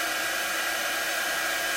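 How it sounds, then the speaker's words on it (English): An embossing heat tool blows steadily and loudly, drying a chalk transfer on a craft project, a continuous broadband whoosh with no voices. "It's just a heat tool, an embossing tool that I use for some crafting that I do."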